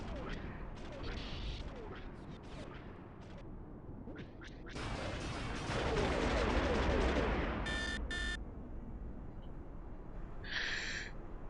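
Blaster fire and weapon blasts in the Star Wars Galaxies video game, a dense burst in the middle with scattered sharp zaps and electronic chirps before and after, at moderate volume.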